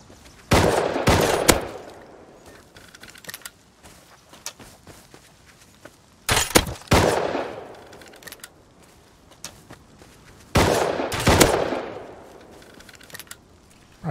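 Gunfire in the survival game Rust, three separate bursts of rapid automatic shots spaced several seconds apart, loud and close, with quieter footsteps and movement in between.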